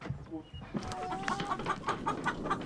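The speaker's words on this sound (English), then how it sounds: "They've also brought 25 chickens and a rooster to increase the flock." Several chickens and a rooster cluck in a busy, repeated rhythm close by, with a brief low voice at the start.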